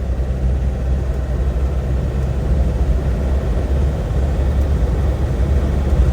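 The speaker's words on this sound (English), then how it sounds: "Some tyre noise because they are big mud terrain tyres, so that's normal" A refurbished 1997 Land Rover Defender 90 on big mud-terrain tyres, heard from inside while driving: a steady, loud low rumble and drone of engine and tyre roar throughout, with no talking.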